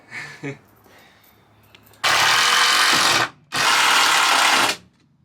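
Two loud bursts of a power drill driving screws into 1x4 wood framing inside a Chevy van, each run about a second and a half long with a short pause between, preceded by faint handling noises.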